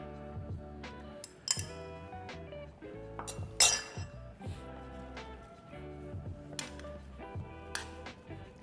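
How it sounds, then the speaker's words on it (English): Dry rigatoni tubes tumble into a pan in a series of sharp, bright clinks and rattles, scattered irregular hits spread over several seconds at close range with no talk. "And then we'll add in the rigatoni."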